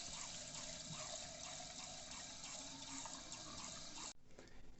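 Water pours steadily into a small bottle as a homemade snow globe is filled with glitter and water, a continuous close gushing trickle that cuts off near the end.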